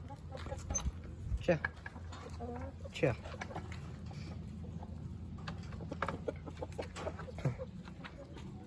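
Backyard chickens cluck softly and intermittently at a distance, faint beneath a person talking close by.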